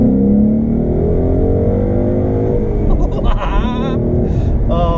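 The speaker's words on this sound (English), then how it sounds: "You get a lovely growl in the cabin from the induction" A loud, steady Ford Mustang GT engine induction growl with layered low harmonics rumbles throughout the cabin, rising slightly near the end.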